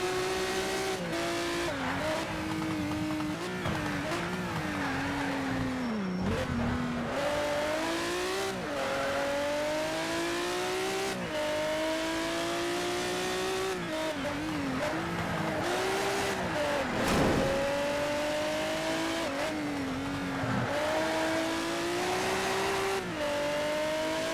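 Ferrari race car engines roar continuously in the Ferrari Racing Legends video game during the last lap of a race, with rising and falling revs through gear changes and occasional tire squeal, loud and steady with no talk.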